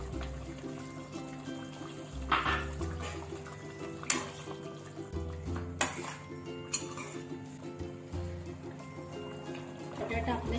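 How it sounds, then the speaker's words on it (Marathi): Tamarind water is added to a simmering dried ribbon fish curry with potatoes and drumsticks, with faint pouring and trickling under clinking pots and utensils and someone talking. "आता आपण हे चिंचेचं पाणी आहे ते घालूया."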